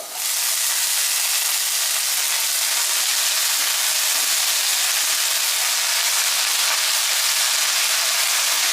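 Water spinach (kalmi greens) tossed into a pan of golden-fried potatoes sets off a steady, broad hiss of frying that carries evenly throughout, close and fairly loud, with no talking.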